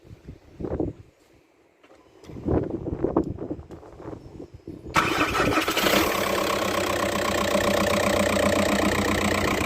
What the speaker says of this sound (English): give it a cold start